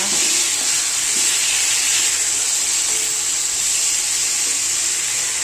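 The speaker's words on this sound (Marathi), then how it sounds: "आता टोमॅटो टाकायचे आणि थोडं फ्राय करायचं." Tomatoes fry in hot oil in a pan for tomato chutney, producing a loud, steady, close-up sizzle and hiss throughout.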